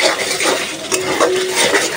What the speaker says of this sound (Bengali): আর এখানে মশলাটা ভালো মতো কষায় নিতেছি।